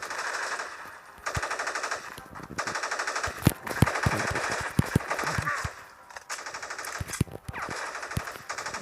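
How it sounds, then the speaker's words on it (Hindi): Repeated machine gun bursts and scattered gunshots in a Pakistan Army combat video game, rapid crackling volleys coming in clusters through the clip over a steady game backdrop. "ये मुझे भी कोई जो है फायरिंग कर रहा है"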